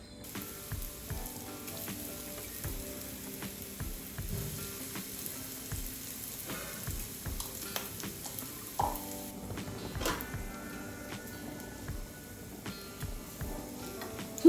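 Bread-crumb coated snacks deep frying in a pan of oil, a continuous crackling sizzle with scattered pops and occasional faint utensil clinks, fairly quiet and steady.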